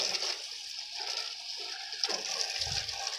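Hot water runs from a spigot outdoors in a steady, splashing trickle for a few seconds. A faint low gurgle comes near the end.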